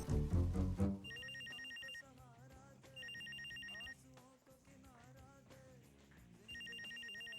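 A telephone rings in repeated bursts of bright electronic trill, three clear rings separated by pauses, over a background of music and faint voices in a domestic comedy scene.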